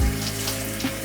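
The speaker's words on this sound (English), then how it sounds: "I'm gonna wash my hands really quick" A kitchen tap runs steadily for handwashing after cooking Philly cheesesteaks, a close, even hiss of flowing water over a faint background hum.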